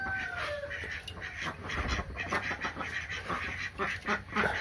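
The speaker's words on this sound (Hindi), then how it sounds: "ये रही जो हमारी बतखें" Ducks quack repeatedly in a busy outdoor cluster, several calls overlapping at close range with steady background noise and no talking.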